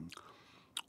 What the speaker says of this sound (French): J'entends même le croustillant sous la dent.